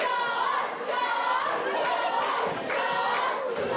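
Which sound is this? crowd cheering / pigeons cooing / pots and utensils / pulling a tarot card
crowd cheering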